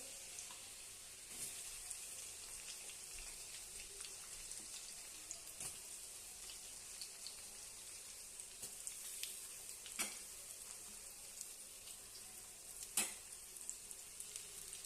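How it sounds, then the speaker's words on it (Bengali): Chopped onion and garlic frying in oil in a pan, a soft, steady sizzle with occasional sharp crackles and clinks of stirring, continuous and fairly quiet. "রসুনটা দিয়ে এক দুটো নাড়া দিয়ে আমরা পেঁয়াজটা দিয়ে দেবো কুচানো পেঁয়াজটা"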